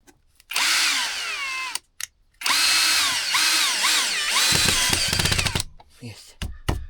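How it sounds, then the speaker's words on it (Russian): A power drill drives a self-tapping screw into wood during a cabin repair, whining in two sustained bursts with rising and falling motor pitch, then stuttering as the screw seats, with a short pause between bursts. "тут сейчас одним саморезом прихвачу и достаточно будет"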